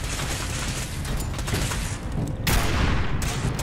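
Rapid bursts of gunfire from the video game Fallout 4, a dense loud volley of shots with booming, explosive-sounding hits that build heavier toward the end.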